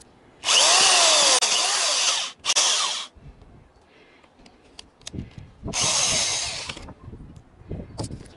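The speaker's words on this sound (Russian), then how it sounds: "Вставил я в шуруповерт сверло тоненькое" A cordless drill fitted with a thin 3–4 mm bit, used to clear a clogged kitchen faucet, whines loudly in two long close bursts with a short spurt between, separated by quiet clicks and handling noises.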